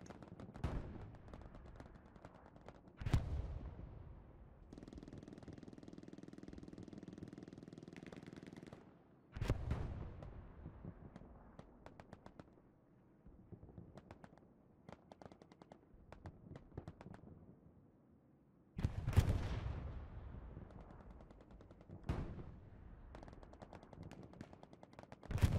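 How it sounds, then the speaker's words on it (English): Bursts of machine gun fire from a World War II tactical shooter game, several sharp volleys spaced through the scene with a steady rumbling battle din between them and no talk. "looks like maybe they just have that one MG really locking down"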